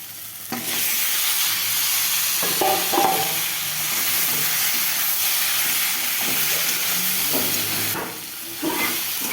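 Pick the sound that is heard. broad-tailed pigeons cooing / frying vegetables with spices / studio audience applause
frying vegetables with spices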